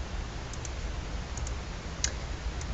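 A few sparse, crisp computer mouse clicks in a spreadsheet menu, faint and spaced apart over a low steady room hum, with no talking.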